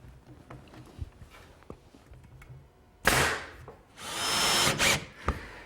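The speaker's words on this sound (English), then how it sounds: "I'll slip it together and attach it with a few brads" Brads driven into a mitered wood frame for wall paneling, a few sharp pneumatic bursts of a brad nailer, close and loud, after quieter workshop handling noises.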